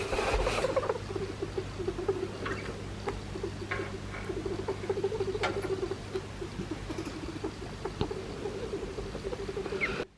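A pet rat with a respiratory infection makes faint, rapid squeaky clicking and chattering breathing noises, heard close up and continuously against a quiet background.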